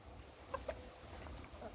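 A backyard chicken gives a couple of short, faint clucks close together over low outdoor background noise.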